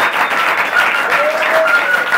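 Loud, dense applause from a studio audience fills the whole stretch, steady and close, with a faint whistle-like tone drifting through it.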